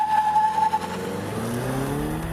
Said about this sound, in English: on a tire-torturing autocross like this one, where we'll really be able to see what these cars are made of